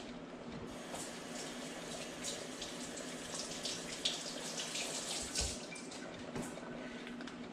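Tap water running steadily into a sink while bok choy is rinsed, a continuous hiss with small splashes and clatters from handling the leaves, close and even throughout.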